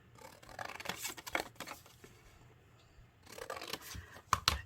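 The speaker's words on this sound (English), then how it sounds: "for these last ones, we're just going to cut up on the score line" Scissors snip through paper along a score line for a mini roll-up box, in two bursts of close, crisp cuts and rustles separated by a quieter pause, ending with a few sharp clicks.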